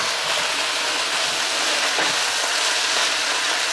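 Red pepper sizzles in a frying pan with kale for a tofu stir fry, giving a steady, even hiss that continues throughout without any talk.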